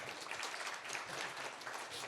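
Festival audience applause for a series' creators in a screening room, a steady wash of many hands clapping, fairly distant and even for a couple of seconds.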